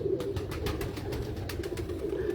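Pigeons of a teddy breed on a rooftop coo steadily, a low rolling burble that continues throughout, with faint rhythmic tapping or fluttering overhead and no voices.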